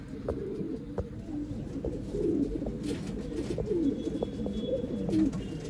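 Pigeons coo softly in repeated low, rolling calls at a pigeon sale in Bangalore, several birds overlapping at close range with faint background hiss.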